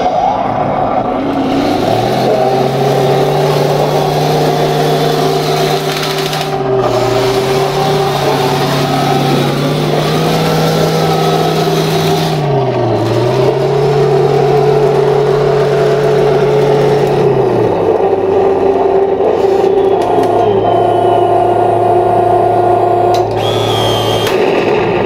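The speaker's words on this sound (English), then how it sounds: "This is a T90 sound." Simulated T90 tank engine from a Heng Long RC tank sound unit: a loud, steady mechanical drone that rises and falls in pitch several times, as if revving up and settling back, running continuously with no talk.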